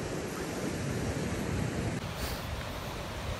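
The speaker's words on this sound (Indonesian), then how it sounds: "Ombaknya gede banget." Big ocean waves surge and roar on a south coast beach in Gunung Kidul, a dense continuous wash of surf with gusty wind noise buffeting the microphone throughout.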